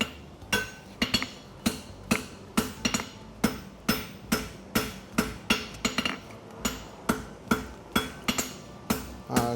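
Hammer blows on an anvil while forging the heel caulk of a hunter hind horseshoe, about twenty sharp ringing strikes in a steady, close rhythm, each with a short metallic ring-out.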